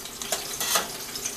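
Onion frying in oil for chile verde, a soft steady sizzle with a few brief stirring scrapes, close and fairly quiet.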